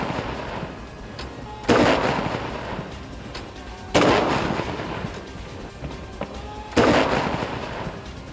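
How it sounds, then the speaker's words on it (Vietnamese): Ceremonial 19-gun artillery salute at Australian Parliament House: three loud, sharp cannon booms spaced a few seconds apart, each followed by a rolling echo, with no talking. "trong tiếng rền vang của 19 loạt đại bác chào mừng"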